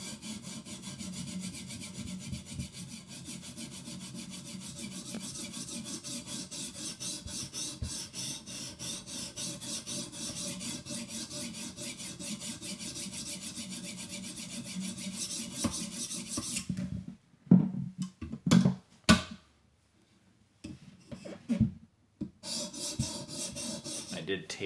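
A Benchmade Bugout 535 S30V knife blade is sharpened on a TS Prof guided sharpener, with rhythmic rasping strokes of stone on steel repeating steadily, close and fairly quiet, followed by a few brief clacks and handling noises.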